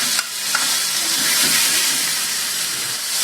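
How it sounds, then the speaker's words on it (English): Chicken sautéing in a hot pan with a little salt and pepper, a loud, continuous broadband sizzle that stays steady throughout, with a couple of faint clicks near the start. "Starting to get a little bit of browning color on the chicken, which is what I want."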